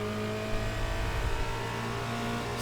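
Formula Renault 2.0 race car engine heard on board during a hot lap in an iRacing sim, a steady loud mid-pitched engine drone with slight rises and falls and no talking.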